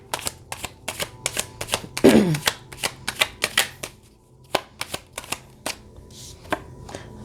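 Tarot cards are shuffled and handled close up, with a quick run of sharp papery taps and clicks, one brief riffling burst, then sparser card snaps, with no speech.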